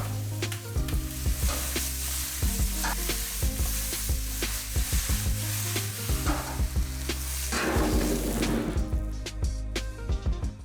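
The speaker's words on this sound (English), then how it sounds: "Fry the ingredients in a wok pan with a little oil. Onions and carrots." Onions and carrots stir-frying in a little oil in a wok, a loud, steady sizzle broken by frequent clacks and scrapes of a utensil stirring the pan, with no talking.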